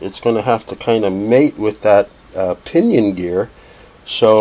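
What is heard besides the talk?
No everyday noise stands out behind the speech.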